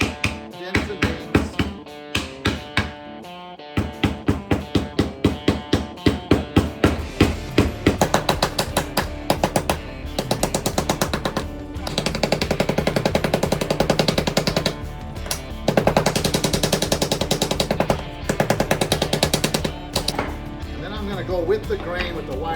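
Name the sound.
pounding wood to add dents and dings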